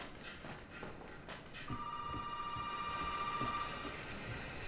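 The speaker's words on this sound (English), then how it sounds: "Phone!" A telephone rings in the horror video game Resident Evil 7, a clear electronic ring holding steady for a couple of seconds over faint shuffling and footsteps, fairly quiet overall.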